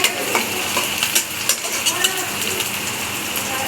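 Tomato goes into a pan of browned ingredients for noodles and is stirred, giving a soft sizzle under repeated spoon scrapes and light metallic clinks.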